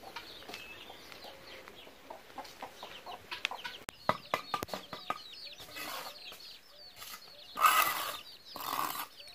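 A mother hen with four chicks in a backyard clucks in repeated short calls, with thin chick peeps scattered around her and a few louder bursts near the end.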